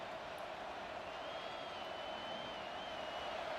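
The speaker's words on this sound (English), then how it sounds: "This crowd, full throat, spreading the eardrums and letting them know it's going to be a long day." Football stadium crowd at a Michigan game cheering loudly, a dense, steady roar of massed voices with no breaks.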